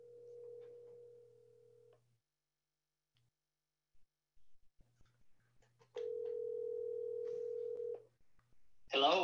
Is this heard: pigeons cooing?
no